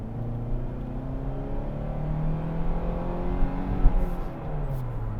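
A 2022 Hyundai Tucson with a non-turbocharged 2.5 liter engine accelerates on a chilly day, its engine hum climbing steadily in pitch through the gears, heard from inside the cabin at moderate volume.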